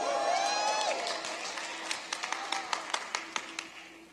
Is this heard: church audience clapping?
yes